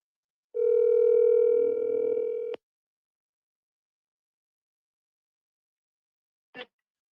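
A telephone dial tone hums steadily for about two seconds while a call is being placed, cuts off abruptly, and is followed by long silence and a single short click.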